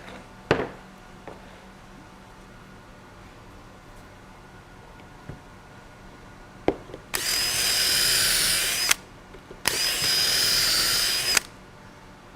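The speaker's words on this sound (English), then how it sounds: "Now that I've got the pocket holes drilled in my side pieces" A power drill bores pocket holes in wooden window trim side pieces, two sustained whining runs of a couple of seconds each, loud and close, after a few scattered knocks and clicks.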